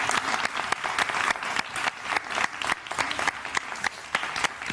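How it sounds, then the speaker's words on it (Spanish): A studio audience on a regional television show applauds steadily and loudly for the whole stretch, dense clapping with no talk over it. "un aplauso para ti"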